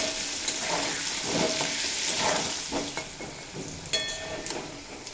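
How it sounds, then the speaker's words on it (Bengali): Potatoes seasoned with salt and turmeric fry in oil until golden brown, making a continuous, moderately loud sizzle broken by the scrape and tap of a stirring spoon. "আলু খুব ভালোভাবে ভেজে নেওয়া হয়ে গেছে"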